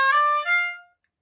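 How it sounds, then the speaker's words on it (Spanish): A C harmonica plays a short blues lick of draw bends on holes 4 and 5, a few reedy bent notes sliding in pitch, close and alone, then stopping into silence. "Esto es bending del 4, 4 aspirado, 5 aspirado."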